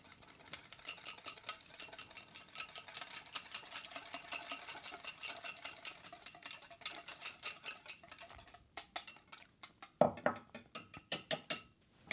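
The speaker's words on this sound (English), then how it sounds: "And now all we do is whisk." A whisk beats a garlic sauce in a bowl with fast, steady metallic clinks and scrapes, later slowing into separate louder taps near the end, with no one talking.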